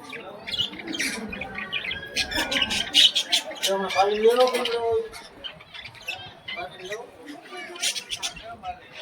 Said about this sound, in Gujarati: પોપટ ને એવું છે બધું તમને બતાવું કલર ના પોપટ